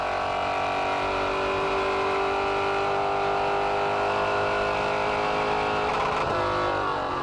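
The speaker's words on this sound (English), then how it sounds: "Great pitches out of Henderson's car, hit the rev limiter there." Engine of a Samsung Commodore V8 race car at Pukekohe, heard onboard as it screams at high revs down the back straight, holding a steady loud tone with a brief stutter near the end as it hits the rev limiter.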